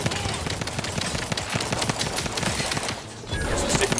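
Rapid pistol fire in the sci-fi game The Outer Worlds 2, dense quick shots crackling almost continuously, loud and close, with a brief lull before firing picks up again.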